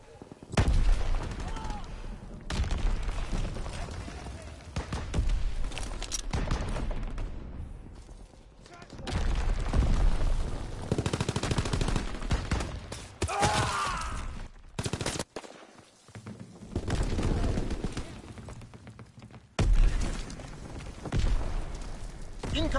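Repeated heavy gunfire and booming artillery blasts from a PS4 war game, loud bursts alternating with short lulls, with voices speaking at times throughout.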